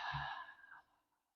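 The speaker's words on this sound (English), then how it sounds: "So exhale like you are fogging up a mirror, and I want you to exhale out all of your breath." A single forceful open-mouthed exhale, like fogging up a mirror, done as a breathing exercise on a stability ball; a close, breathy whoosh lasting about a second that fades out.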